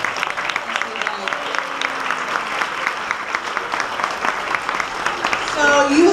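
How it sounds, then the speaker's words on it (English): Kindergarten students at a spring sing event clap in sustained, fairly close applause with a dense patter of hands. Voices and some children's cheering rise near the end. "Give yourselves a round of applause."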